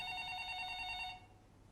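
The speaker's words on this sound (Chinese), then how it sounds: "你听到她的电话响了" A telephone rings in a domestic drama scene, one steady electronic ringing tone held for about a second before cutting off, fairly quiet and with no talk over it.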